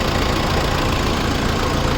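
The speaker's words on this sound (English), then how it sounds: "So you can just check out the engine sound." The engine of a 2014 Mahindra Thar 4x4 hardtop idles close by with a steady, even rumble and a faint knocking texture, running alone with no talk.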